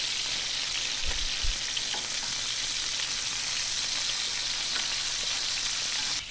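Italian sausages frying in a pan give off a steady, even sizzle throughout, with a couple of low bumps near the start and no talking.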